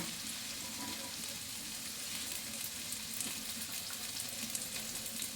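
Cashews frying in hot oil while a vegetable dal is being made, giving a steady, fairly quiet sizzle with light bubbling that runs evenly throughout, with no voices.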